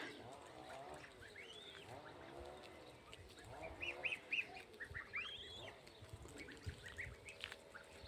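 Three-week-old goslings peep and call in thin, rising chirps, several overlapping at moderate distance over a low background murmur.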